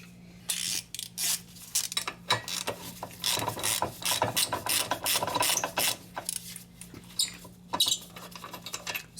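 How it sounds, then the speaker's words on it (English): Ratchet wrench clicking in quick irregular bursts while undoing a 21mm caliper bracket bolt on a Mercedes/Dodge Sprinter van front brake, close and fairly loud, with short pauses between strokes. "The caliper bracket bolts are 21mm bolts. So I'm gonna undo the first one."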